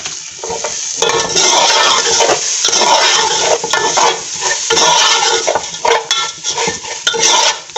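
Seviyan vermicelli roasting in a pan for kheer, with brisk stirring and scraping of a spoon against the metal pan over a soft dry sizzle, coming in repeated close bursts with short pauses.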